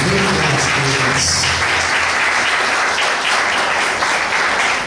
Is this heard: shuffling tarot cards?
no